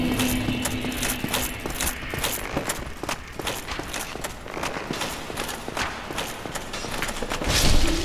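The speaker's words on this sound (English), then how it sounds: "Oh, I hear all the footsteps." Rapid footsteps of a crowd of enemies in Blighttown, Dark Souls, a dense run of thudding, clip-clop-like steps that keep going for the whole stretch over a murky game ambience, louder near the end.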